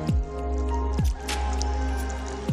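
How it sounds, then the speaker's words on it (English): Avicennia alba mangrove fruits dropping into river water in the Sundarbans, three distinct plops about a second apart, close and clear over quiet flowing water. "the fruits fall into the river one by one"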